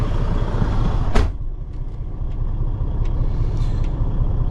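2012 Freightliner Cascadia 125 truck engine, a sharp burst near the start giving way to a steady, close diesel rumble.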